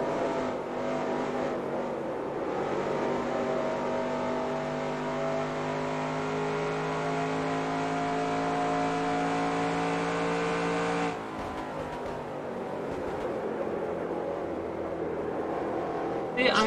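A race car engine drones at high, steady revs in the PC game NASCAR Racing 2003 at Pocono Raceway, its pitch holding near-constant before a brief drop and recovery as a gear changes.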